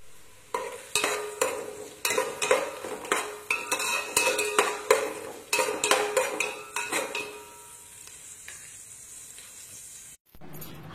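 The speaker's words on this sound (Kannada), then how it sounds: "ಇಲ್ಲಿ ಈರುಳ್ಳಿಯನ್ನು ಫ್ರೈ ಮಾಡಲಿಕ್ಕೆ ಹಾಕಿದ್ದೇವೆ." Onions frying in a little oil in a pot for a traditional Pathrode breakfast, with steady sizzling under repeated stirring scrapes and clinks of a metal utensil against the pan, fading quieter toward the end.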